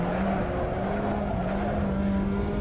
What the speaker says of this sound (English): Switched over to the Assetto Corsa, we switched over to the Ferrari 458.